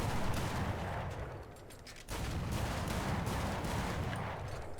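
The Type 65 in War Thunder fires its machine guns in long, dense bursts of rapid rounds, loud and continuous, with a short pause midway before the firing resumes.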